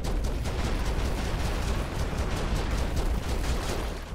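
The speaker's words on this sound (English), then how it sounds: "Those are fireworks." Fireworks going off in the side-scrolling action game Broforce, a dense, loud, continuous barrage of booms and crackling blasts that rolls on without a break.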